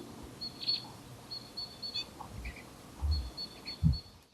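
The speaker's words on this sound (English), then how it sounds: "Get that double call note jip-jip, and notice how much stronger it is than the nasal jip-jip of the white-winged crossbill" Faint, distant finch calls in a quiet outdoor setting: a few sharp doubled chirps repeated in short bursts, spread across the stretch, with low background rumble and no voices.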